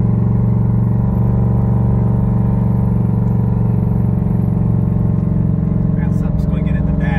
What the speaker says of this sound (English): when you have exhaust this loud